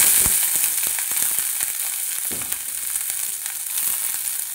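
Onion frying with whole cumin and a dried red chili in a little hot oil, a steady close sizzle with occasional crackles and stirring clicks, no voices.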